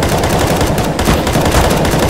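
Rapid automatic gunfire from the Counter-Strike: Global Offensive video game, a dense, continuous, loud rattle of shots with no pause and no talking.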